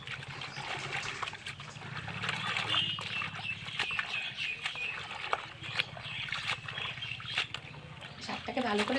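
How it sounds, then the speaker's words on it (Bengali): Leafy greens (lafa shak) being rinsed by hand in a basin of water, with steady trickling, sloshing splashes and small knocks throughout, fairly close, over a low background hum. "শাকটাকে ভালো করে ধুয়ে নিচ্ছি প্রথমে।"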